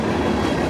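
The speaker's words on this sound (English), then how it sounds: "There's nothing like the sound of a train." A train rolling past at a Parkville crossing, a steady close rumble with rail clatter and metallic wheel noise filling the whole short stretch, loud and unbroken, with no voices.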